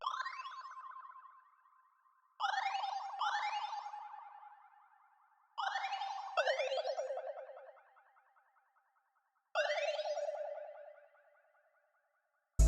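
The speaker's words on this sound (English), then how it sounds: "Then for the next thing I had this FX which is called Bits, and it's from the Blast Bank again from Dynox" Bits FX from the Dynox Blast Bank, a glitchy synth effect laid down as a simple pattern: four loud bursts, each a sweeping, chirpy tone with an echoing tail, spaced about three seconds apart with silence between.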